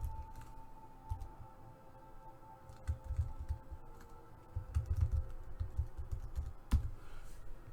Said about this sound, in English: So I'm just going to type here Donald